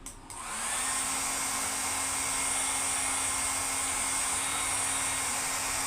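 An electric blower runs steadily and loudly, keeping small plastic balls floating in its airstream; a constant whooshing hum with a steady tone, starting after a brief moment and holding unchanged throughout.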